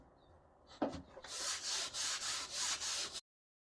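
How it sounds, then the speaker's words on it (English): A soft plastic-bristle detailing brush scrubs pop-up camper canvas with mildew stain remover sprayed on, making close, steady back-and-forth rasping strokes in about six rhythmic bursts that stop abruptly. "This is kind of like a little detailing brush, kind of like softer plastic bristles."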